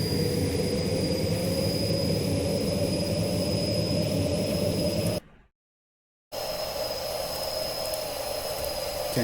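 Steady jet aircraft engine roar from an animation scene, loud and continuous with a high whine, cutting to brief silence midway before resuming.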